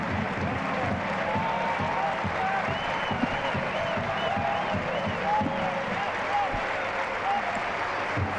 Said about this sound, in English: taking the applause from the away fans for a very good shift that he put in